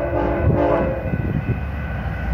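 A northbound BNSF light-power move of locomotives running without cars rolls past close by, with a loud, steady diesel rumble and a horn sounding over it throughout.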